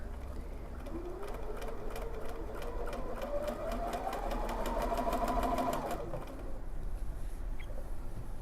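A sewing machine embroiders a name in light purple thread, its needle chattering in a fast, steady rhythm with a rising whine as the speed builds, then stopping near the end.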